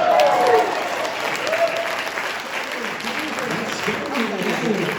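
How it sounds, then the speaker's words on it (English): A concert audience claps at a reunion show, a steady broadband patter of applause that lasts the whole stretch, with a voice briefly audible near the start. "I want y'all to clap for him as far as what you think"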